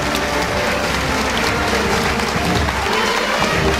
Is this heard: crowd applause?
yes